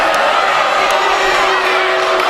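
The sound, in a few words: basketball crowd protesting a bad call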